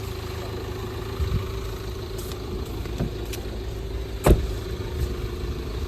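A new Tata Nexon car idles with a low, even engine hum close by, joined by a few faint knocks and one brief louder thump, and no one speaks.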